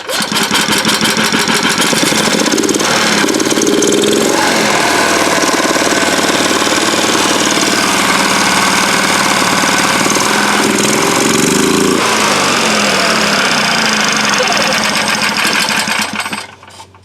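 A Predator 420 engine fitted to a Club Car DS golf cart runs loud and close, a rapid, steady mechanical clatter with a brief throttle rise around the fourth second and another near the twelfth, then cuts off at the end.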